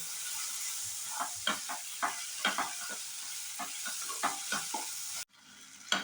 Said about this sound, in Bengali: রসুন বাটা দেওয়ার পর কিছুক্ষণ কষিয়ে নিতে হবে